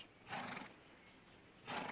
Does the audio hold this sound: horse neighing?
yes